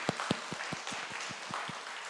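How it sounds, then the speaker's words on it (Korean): A church congregation at a Friday prayer service claps in a steady, evenly spaced rhythm, a dozen or so distinct claps against a soft room background. "하나님께 영광의 박수 올려드립니다"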